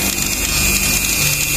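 A power tool grinds out an oil cooler hose on a Yamaha Mio scooter so that a 12 mm bolt will fit, a loud, close, steady whine with no pauses.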